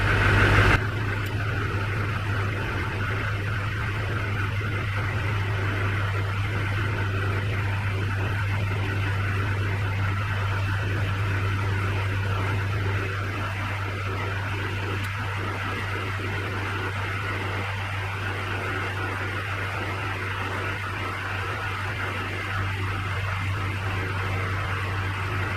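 A Duramax diesel truck engine idles steadily just after an injector install, a continuous low hum with a constant drone, close and alone for the whole stretch with no talking.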